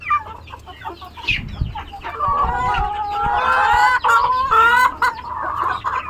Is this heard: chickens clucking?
yes